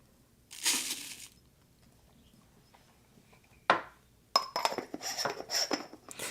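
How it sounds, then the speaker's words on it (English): An aluminum coffee grinder is handled and closed, giving a short metallic rasp early on, then a sharp clack followed by a busy burst of scraping and clinking metal parts, close and fairly loud. "since this grinder is made of aluminum instead of plastic, I guess it's easier for you guys to hear when I'm closing it"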